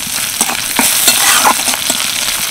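Chopped green chilli and grated coconut fry in a pan with a steady sizzle, punctuated by repeated scraping and stirring knocks close by.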